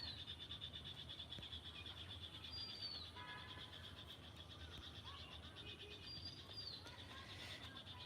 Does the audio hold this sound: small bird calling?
yes